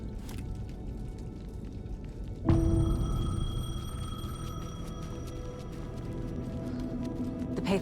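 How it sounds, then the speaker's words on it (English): A payphone rings in the video game Alan Wake 2, its electronic tone starting abruptly partway through and holding steady with bright overtones over a dark, rumbling ambient background, fairly close and continuing to the end. "The payphone was ringing."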